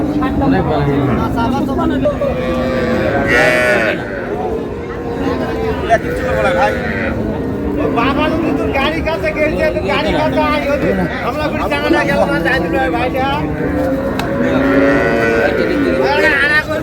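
Cows with calves moo repeatedly amid a noisy crowd at Raniganj cattle market in Dinajpur, Bangladesh, with long low calls rising over constant chatter and people talking nearby.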